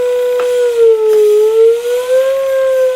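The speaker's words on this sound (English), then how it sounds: "you can hear that fluctuation, that spring, and all the tone wheels" A steady organ tone wavers slowly in pitch, wobbling up and down with faint clicks, sustained and loud with no one speaking.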